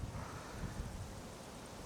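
Strong headwind gusts across the microphone outdoors during long-distance casting with new fishing rods, a steady dense rumble with no other clear sounds.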